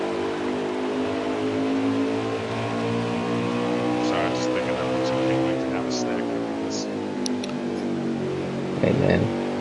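Race cars roar around the Richmond track in a sustained, loud engine drone with shifting pitch as the cars pass, while a commentator talks over the noise throughout.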